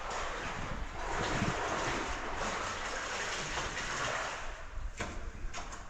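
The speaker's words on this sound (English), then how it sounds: "I can hear the Virgin River ahead. It sounds like a raging torrent." Broad, steady rushing roar of the fast-flowing Virgin River in Zion, Utah, continuous and fairly distant, with no voices.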